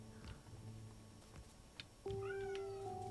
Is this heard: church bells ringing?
no